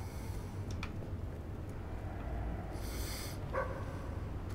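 A dog barks in the video game Fable III, a few short barks set back in a dense wash of game music and ambient sound.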